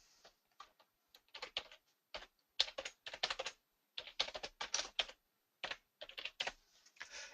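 Rapid bursts of typing on a computer keyboard entering a name, clicking keystrokes in quick irregular clusters separated by short pauses, close and clear with no talking.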